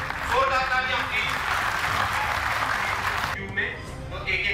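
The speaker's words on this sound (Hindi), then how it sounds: "मोमेंटो पेश करें। जोरदार तालियां" Steady clapping from a crowd at a Waqf Board conclave in Jammu and Kashmir, a thick, continuous patter that cuts off sharply near the end, with someone talking over it on a microphone.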